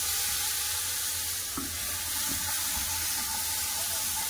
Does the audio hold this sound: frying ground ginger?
yes